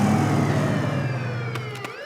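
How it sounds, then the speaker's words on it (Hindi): Cartoon police siren, a loud, sustained electronic wail with its pitch slowly sliding downward, ending with a few brief sharp clicks. "अरे बाप रे, ये तो पुलिस का सायरन है।"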